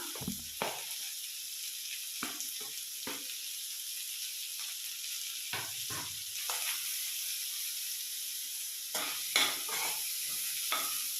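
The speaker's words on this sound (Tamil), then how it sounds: "இதை லைட்டாக போட்டு எல்லாத்தையும் வதக்கி விடுங்க" Vegetables sautéing in a pan for paneer noodles, soft continuous sizzle broken by repeated scraping stirs and clatters of a spatula, close by with no talking.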